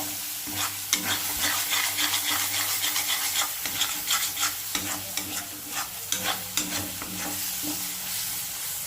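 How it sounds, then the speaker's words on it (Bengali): Coriander leaf paste hitting hot masala for a katla fish kalia, giving a steady sizzle and fry with repeated scraping strokes of a spoon stirring in the pan, close and continuous with no talking. "এবার আমি দিয়ে দেবো ধনেপাতার যে বাটাটা করে রেখেছিলাম ওটা দিয়ে দেবো"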